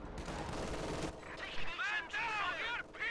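An MG42 machine gun fires in a World War II strategy video game, a dense burst of rapid rattling gunfire at the start, followed by harmonic, voice-like sounds that may be speech.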